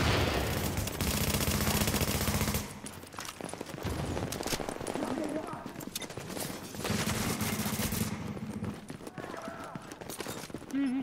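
Rapid gunfire from an automatic sniper rifle in The Division, a player-versus-player shooter game, comes in dense bursts separated by brief lulls, with voices now and then.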